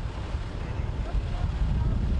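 Strong Santa Ana wind gusts buffeting the microphone in Southern California, a loud continuous low roar that swells slightly toward the end.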